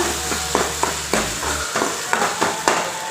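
Ground coconut paste with dried red chillies sautés in a pan for mor kuzhambu, with a low sizzle under rhythmic spatula scrapes, roughly two or three strokes per second.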